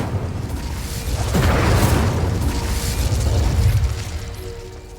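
An Incendio fire spell cast in Hogwarts Legacy, a deep rumbling burst of flame that swells and roars for a few seconds before slowly fading.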